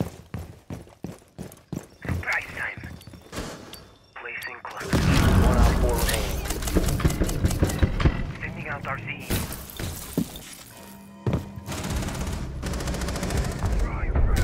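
Gunfire and explosive bombing of a room in Rainbow Six Siege: sharp single shots, then rapid automatic bursts and heavy booming blasts. Players talk over the action throughout.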